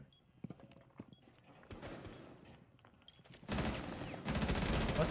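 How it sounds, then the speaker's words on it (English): Gunfire in a Rainbow Six video game match, scattered single shots at first, then dense rapid bursts building to loud sustained firing near the end, with faint game sounds between. "You start hearing some gunshots."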